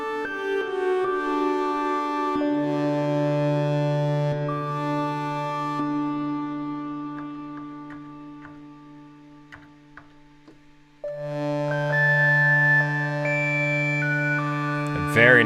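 An Arturia Minibrute 2S synth plays two-note polyphonic lines through a lush Plateau reverb module in VCV Rack, with sustained tones swelling, fading into a wash of reverb, then returning loudly near the end.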